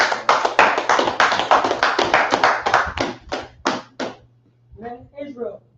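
A group claps close and loud in quick, uneven bursts that slow and thin out over about four seconds. A voice follows, and a low steady hum runs underneath.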